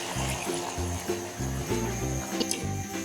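Water used for soaking dal is poured into a pot with chicken and dal, making a continuous splashing, gurgling flow with rhythmic low glugs, close and fairly loud.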